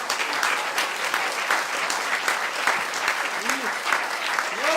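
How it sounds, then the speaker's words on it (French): A French chanson show audience applauds two performers in a steady, dense burst of clapping that stays loud throughout, with a voice faintly rising over it near the end. "on les applaudit"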